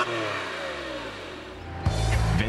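The water-cooled engine of a present-day Porsche 911 (997) hums with a falling tone, then snaps into a sharp, louder rev near the end, recorded close with no talking.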